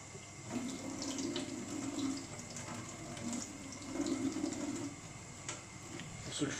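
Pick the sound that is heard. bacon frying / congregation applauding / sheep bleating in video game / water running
water running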